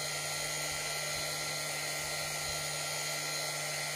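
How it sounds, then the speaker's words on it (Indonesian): An angle grinder with a sanding disc whines steadily at high pitch throughout, loud and close, with no pauses, while sanding a fiberglass sandal heel. "langsung fibernya dihaluskan dengan memakai mesin gerinda"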